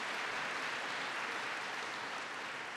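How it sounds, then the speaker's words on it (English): An audience claps for the mayor at a presidential speech on the economy, an even, sustained wash of applause heard from a distance at low level. "Give the mayor a big round of applause."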